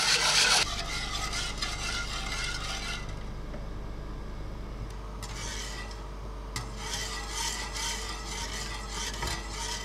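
A flan caramel mixture is stirred in a pot before going on the heat to boil, giving steady scraping and rubbing strokes, loud at first and then continuing as a close, even rasp with no talk.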